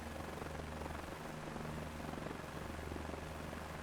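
A helicopter rotor in Microsoft Flight Simulator 2024 beats steadily with a constant loud thrumming wash, continuous and close with no speech.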